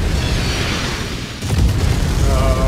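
Artillery shells exploding in the mech combat game MechWarrior 5, a continuous low rumbling barrage with a heavier boom midway, loud and close, no talking.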